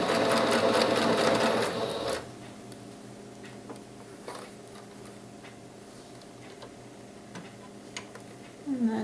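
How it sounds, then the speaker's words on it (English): A sewing machine stitches across a scrap piece of fabric in a short loud burst of rapid mechanical whirring, then falls quiet apart from scattered faint ticks and clicks. "And then just sew across that piece, and then I back up."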